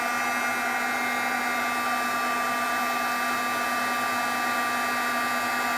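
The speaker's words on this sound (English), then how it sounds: "I'm going to go ahead and set that with my heat gun" A heat gun runs continuously to melt and set embossing powder while making a stamped sympathy card: a loud, steady blowing whir with a high whine, close and unbroken throughout, with no talking.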